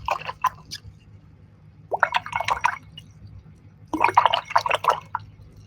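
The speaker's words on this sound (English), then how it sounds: "I'm going to come up here and I'm going to wash my brush." A paintbrush is swished and rinsed in a water cup during acrylic painting, giving three bursts of wet dripping and sloshing separated by short pauses, close and moderately loud over a faint low hum.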